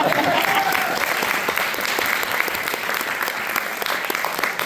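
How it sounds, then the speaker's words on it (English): A crowd at a student choice award ceremony claps for staff members, a dense, continuous round of applause at steady loudness, with faint voices underneath. "I'd also like to give you a round of applause."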